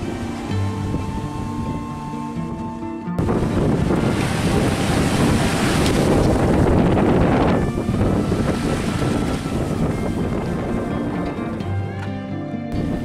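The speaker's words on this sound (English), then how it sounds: "We're sailing along in sporty conditions, sustained over 20 knots of wind speed." Strong wind buffets the microphone and waves rush past a reefed sailboat on a starboard broad reach in sustained winds over 20 knots, a loud, steady roar that swells sharply after a few seconds and holds with no one speaking.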